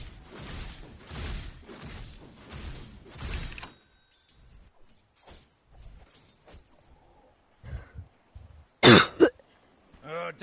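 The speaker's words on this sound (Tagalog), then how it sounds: "Grabe na yung ubo ko talaga." A commentator's sharp throat clearing and coughs, a few brief bursts with short gaps, near and fairly loud, following speech during a Dota 2 esports broadcast.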